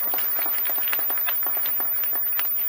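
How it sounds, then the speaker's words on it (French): Audience applauding at an opening ceremony of a women's event in Oyo, a dense continuous wash of many hands clapping throughout, fairly loud and steady. "Est-ce qu'on peut applaudir encore pour Griot Zangué?"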